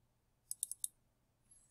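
A computer mouse double-clicking while working in an Excel spreadsheet: four crisp, close clicks in two quick pairs, alone against near silence.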